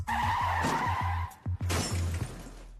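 A car brakes hard at about 50 km/h and skids, with loud tire noise and a sharp crash-like burst midway, followed by a second rough skid; no talking.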